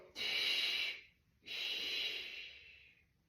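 Breathing during a towel exercise class for the pelvic floor and joints: two long, close, airy breaths, a strong inhale and then a slower, fading exhale, with no speech over them.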